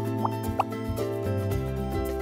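Bubbles in an animated children's letter-B scene pop with a few bright, distinct plops spaced apart, sitting over a sustained musical backing.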